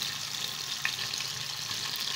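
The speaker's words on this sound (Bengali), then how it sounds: "এবারে আমি টমেটোটা 2 মিনিটের মতো সাঁতলে নেব, যাতে টমেটোটা মজে যায়।" Chopped tomato with salt sautéing in oil over black cumin seed tempering, for a tengra fish curry; a steady, fairly faint sizzle runs throughout with one small pop near the middle.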